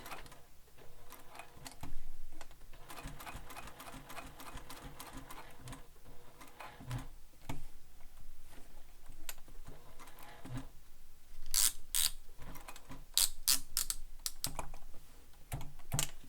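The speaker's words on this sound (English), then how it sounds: "So now I'm going to top stitch the strap sling all the way around." A sewing machine top stitches around a fabric strap for a sling pack, a rapid close mechanical chatter running in bursts with brief pauses and a few sharper clicks near the end, no talking.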